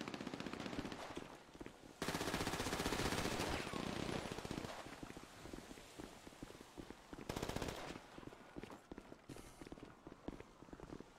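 Sustained automatic gunfire in a shooter game, fired from an elevated position above, loud bursts of rapid shots with brief pauses, the heaviest volley running several seconds, interspersed with footsteps.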